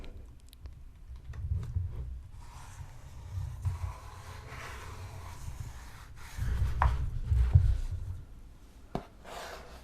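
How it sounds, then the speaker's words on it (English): A book rubbed and handled close up, soft papery scraping and brushing with a few light taps, quiet and intimate, swelling louder in bursts without any talking. "Tried to make some papery sounds with the book."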